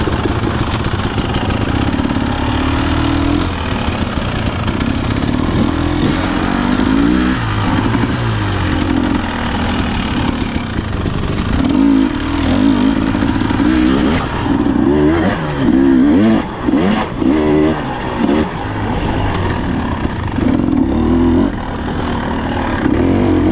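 A Husqvarna TE 300 TPI two-stroke dirt bike runs close and loud throughout, its engine rising and falling through repeated revs and throttle changes as it rides.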